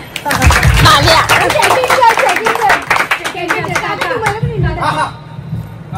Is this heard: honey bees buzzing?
no